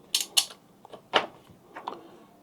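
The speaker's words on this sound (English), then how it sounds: "FEM is back on, as you can hear it clicking" A BMW F-chassis front electronic module (FEM) sitting on a bench gives off a few sharp, distinct relay-like clicks at irregular intervals, close and fairly quiet, with no talking over them.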